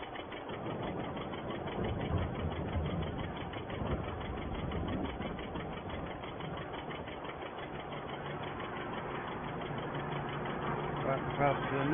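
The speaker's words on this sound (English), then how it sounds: "Back past the noisy factory." Machinery in a noisy factory, passed while lifting sugar beet on a 1951 farm, gives a steady mid-pitched mechanical drone with fast rhythmic clatter, moderately loud and continuous, with a voice speaking over it.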